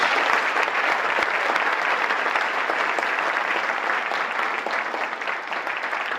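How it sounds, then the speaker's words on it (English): Audience applause at a luncheon, a sustained round of many hands clapping, dense and even, easing off slightly toward the end. "can we give them a round of applause?"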